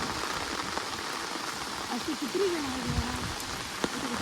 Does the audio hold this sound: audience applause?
no